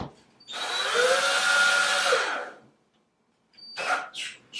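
A screw is driven into a butterfly-shaped wall plate with a power drill, one sustained whirring burst of about two seconds, close and fairly loud, then quiet before brief clattering handling sounds.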